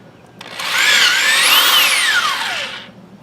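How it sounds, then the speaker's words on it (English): A power drill bores holes in a 2x4 with a 3/8 inch bit, its motor whining up in pitch, holding, then winding down over about two seconds, loud and close. "I'm drilling this with a 3/8 inch bit, and I'm going to go ahead and drill my holes."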